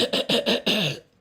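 A streamer who is under the weather coughs indoors, four quick harsh coughs in a row followed by a longer rasping fifth, close to the microphone and alone without talk.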